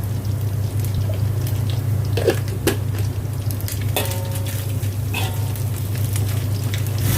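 Chili frying in a pan gives a steady close sizzle with scattered crackles and pops, and a low hum runs underneath.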